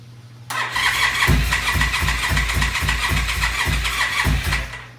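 A motorcycle engine cranks and catches on choke during a first start, sputtering into a rough, pulsing near idle with no throttle, each low thump repeating steadily and loud.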